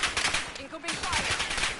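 Incoming gunfire in Call of Duty Warzone on Rebirth Island: rapid bursts of automatic fire, loud and close, with a brief lull before the shooting resumes.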